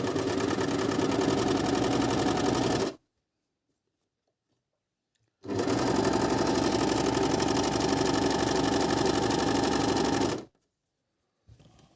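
Merrylock 3000cl overlock sewing machine stitching a rolled hem, running in two steady, loud bursts of rapid mechanical whirring separated by a few seconds of silence, with a faint click at the end.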